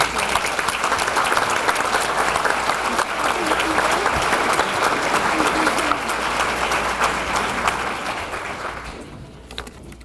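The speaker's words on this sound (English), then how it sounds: "Let's give our new queen another big round of applause." A banquet audience at the 2019 Suffolk Peanut Fest Queen's Banquet fills the room with loud, sustained applause, a dense wash of clapping that holds steady for several seconds before fading out at the end.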